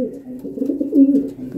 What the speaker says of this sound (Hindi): कबूतर देखिए।